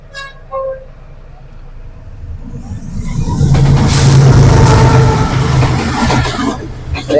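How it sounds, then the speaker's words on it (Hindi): A train passes on the crossing track at a railway crossing, building from a quiet start with a few faint tones into a loud, sustained rumble and rattle of wagons close by that holds to the end. "ट्रेन आ रही है, देखा मैंने क्या कहा, क्रॉसिंग हो रही है उस साइड से"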